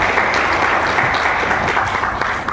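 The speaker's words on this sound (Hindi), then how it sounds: "तो एक बार जोरदार ताली अपने माता पिता के लिए।" Loud, sustained applause from a large indoor crowd at a direct-selling achievers' celebration in India, given in honour of parents, with many hands clapping densely and evenly throughout.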